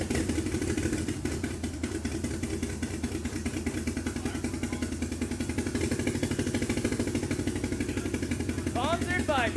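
A Toyota Crown JZS155 with a swapped 1JZ-GTE engine runs steadily after its first start, a continuous rhythmic idle with a mechanical clatter throughout, heard fairly close.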